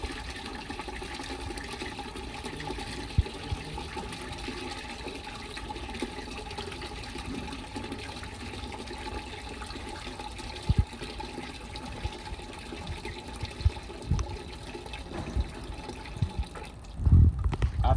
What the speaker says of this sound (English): To drain it, we will press this button to drain the water.